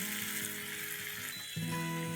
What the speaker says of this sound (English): Stir this well, and while you're stirring this, we also need to add in 2 tablespoons of the spice mix